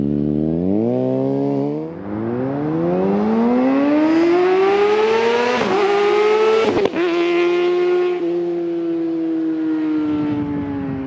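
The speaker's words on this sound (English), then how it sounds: "a ridiculously loud exhaust and a screaming redline" 2021 Kawasaki Ninja ZX-6R with a loud exhaust, screaming up through the gears close to the mic, with a rising high-pitched wail, brief drops at quick shifts, then a sustained howl at high revs.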